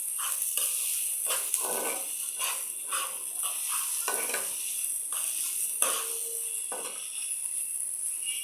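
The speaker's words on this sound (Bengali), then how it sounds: "লাল লাল করে ভেজে নেব পেঁয়াজটাকে।" Onions frying in a pan of hot oil for a tilapia fish recipe, giving a steady close sizzle with repeated scraping and stirring strokes throughout, no talking.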